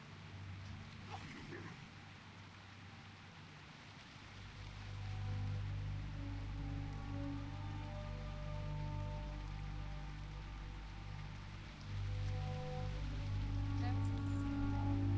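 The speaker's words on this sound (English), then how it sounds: "Cozy Rain." Soft rain ambience in the game Turtle WoW, a faint steady patter with tonal game music underneath and quiet speech over it.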